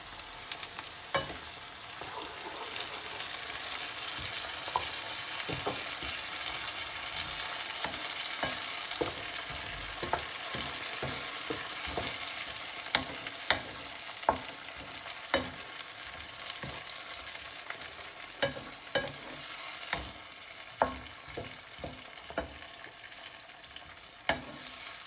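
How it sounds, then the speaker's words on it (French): Blended fresh tomatoes fry with chicken in a pan with a constant close sizzle, and frequent sharp clacks of a stirring utensil against the pan punctuate it. "je vais mettre ça, c'est la tomate, les tomates fraîches que j'ai mixées"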